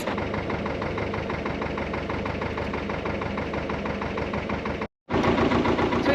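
An old Lister diesel narrowboat engine running hard on the River Weaver with a steady rhythmic chugging knock, loud and close, briefly dropping out for a moment before resuming.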